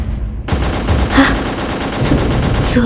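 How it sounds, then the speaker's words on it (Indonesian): Gunfire rings out in the Sakura School Simulator video game, a loud continuous burst of rapid shots starting abruptly after a brief quiet and holding steady, with a few sharper cracks standing out. "Suara tembakan."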